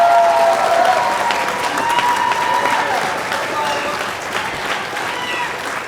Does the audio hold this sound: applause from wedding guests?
yes